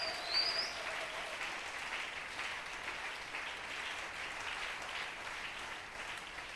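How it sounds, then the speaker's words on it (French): A church congregation applauds and cheers God in a steady, moderately distant wash of clapping, with a brief high whistle near the start. "Il mérite que nous l'acclamons quand même."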